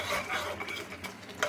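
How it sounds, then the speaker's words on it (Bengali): A spoon stirring ghee into cooking dalia in a pot, giving soft scraping and clinking against the metal over a faint simmer, fairly quiet and steady with a small knock at the end. "এই ঘিটা দিয়ে নেড়ে নিই"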